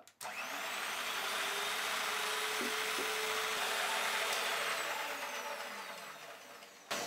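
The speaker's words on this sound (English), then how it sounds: "now I'm going to add some icing sugar and beat everything nicely together" Electric mixer beating butter and icing sugar for a buttercream, a steady high-pitched motor whine with a whirring drone, close and fairly loud, running continuously for about seven seconds with a slight pitch change midway.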